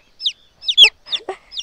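A farmyard hen clucks in short, sharp bursts, four or five close calls with brief pauses between them, clear and alone without talk.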